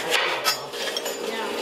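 A kitchen knife slices the ends off an orange on a cutting board, giving a few sharp, close clicks and knocks of the blade against the board.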